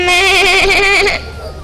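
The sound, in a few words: person imitating a goat bleat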